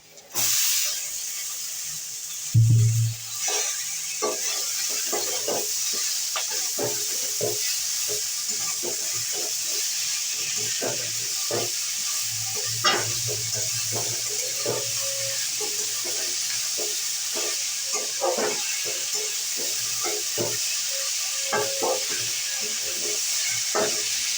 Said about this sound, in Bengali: হ্যাঁ কপিটা কষে নি তারপরে জল দেবো